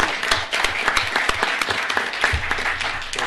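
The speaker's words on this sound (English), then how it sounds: "So, anyways, a little round of applause." Scattered clapping from a small group at a city council meeting in Sparks, brief and moderately close, with a few distinct claps standing out from the patter.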